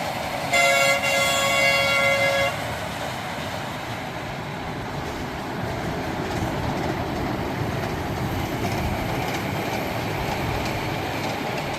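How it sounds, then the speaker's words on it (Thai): A train horn toots loudly for about two seconds, then a steady rumble of rolling rail cars continues underneath without any talking, heard at a small private railway station in southern Thailand. "เป็นครั้งหนึ่งในชีวิตที่เราได้นั่งรถไฟ"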